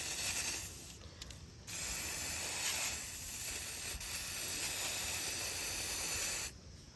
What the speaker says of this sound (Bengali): আর WD-40 হালকা WD-40 ব্রাশে মারবো।